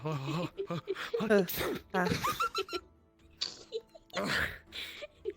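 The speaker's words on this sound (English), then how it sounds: "but also I just sneezed" A single sneeze bursts out amid a person's chatter in a VRChat roleplay session, close and loud, followed by more talking and breathy sounds.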